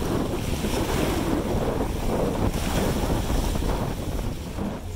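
Strong wind buffets the microphone as waves slap and surge around a boat heading out into the open sea off southern Russia, a dense, continuous roar with no voices.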